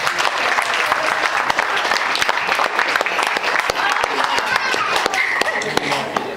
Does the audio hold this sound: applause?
yes